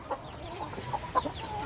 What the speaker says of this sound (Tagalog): Yan, mga manok na pula.